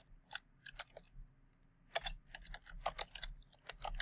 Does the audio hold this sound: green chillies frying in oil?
no